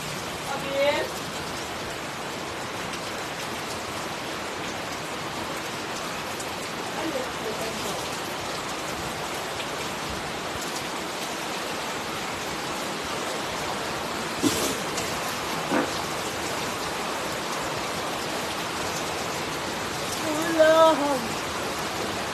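Steady rain falling on a rural provincial home, a continuous soft hiss of drops on surfaces running throughout, with a few brief louder knocks and a faint voice near the end.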